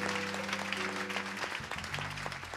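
A church congregation claps for the Lord, a sustained wash of applause running under held organ or keyboard chords, moderately distant and fairly soft.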